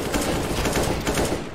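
Rapid bursts of automatic gunfire in the video game Counter-Strike: Global Offensive, dense overlapping shots sounding loud and continuous with no talk.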